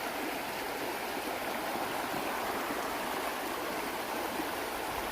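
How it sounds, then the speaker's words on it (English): A stream runs steadily nearby, a continuous, full rushing of water with no break and no voices. "The water used to run up this side, but I guess it's now running up this side."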